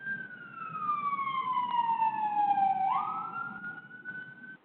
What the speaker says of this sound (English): there was a siren that was drowning you out